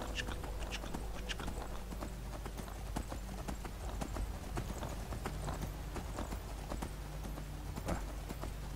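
Horse hooves clip-clop steadily while riding along a road in the video game Skyrim, a continuous rhythmic trot of close, crisp hoof strikes layered over game ambience, with no talk.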